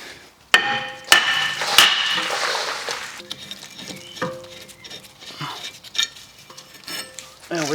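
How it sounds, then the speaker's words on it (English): Hammer strikes knocking a corroded front brake disc off the hub of a VW Tiguan, several sharp metallic knocks close by with scraping and clinking in between. "I'm going to tap it with the hammer, smack it off of there"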